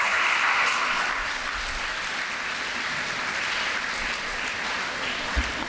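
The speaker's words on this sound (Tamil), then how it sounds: "கலையரசி டீச்சருக்கு ஒரு நல்ல கைத்தட்டலை கொடுங்களா." An audience claps steadily for teacher Kalaiyarasi at a school event, a dense, even wash of applause that carries on for several seconds without a break.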